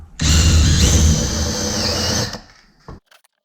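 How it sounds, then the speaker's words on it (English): A power drill bores a hole for a tombstone peeper eye bolt: one close, loud whirring burst of about two seconds that winds down and stops. "So let's drill a hole and get this thing in here."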